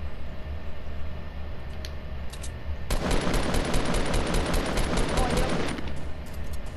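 Rapid automatic gunfire in Fortnite Battle Royale breaks out partway through as a dense, sustained burst of shots over a continuous game background, then cuts off abruptly near the end.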